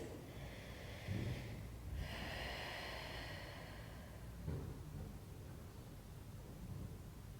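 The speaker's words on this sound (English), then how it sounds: "take a nice deep breath" A deep, airy breath drawn in and let out during a Pilates stretch, close and breathy, with soft noisy inhalation and exhalation swells and no talking.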